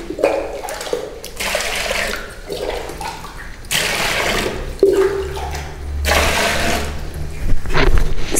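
Water is poured and splashed into a bowl to begin mixing Nubian abreh dough, a loud, close, uneven gushing and sloshing that continues throughout.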